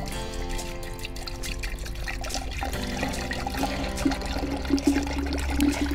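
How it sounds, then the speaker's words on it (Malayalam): Coconut water pours steadily into a glass jug for making Kerala toddy, a continuous close trickle and gurgle of liquid with no speech. "ഇനി ഇതിലേക്ക് നമ്മളിവിടെ എടുത്തു വെച്ചിരിക്കുന്ന ഈ കോക്കനട്ട് വാട്ടർ ഞാൻ ആഡ്"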